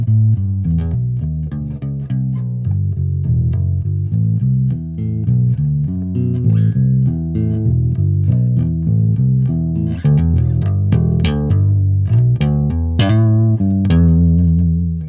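A deep, low-pitched electric guitar line played as bass with the fingers, tremolo and reverb off, notes moving steadily in a bass-like groove, played alone and fairly loud.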